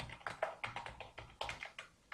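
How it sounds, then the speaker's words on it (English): Someone types an email on a computer keyboard, a quiet, close run of soft, uneven key taps with a brief pause midway. "here you can type your email"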